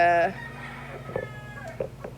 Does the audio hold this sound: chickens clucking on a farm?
yes